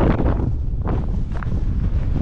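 Strong wind buffets the microphone in the hilltop village of Les Baux de Provence, a loud, rough, gusting rumble that surges and eases without pause, with no talking.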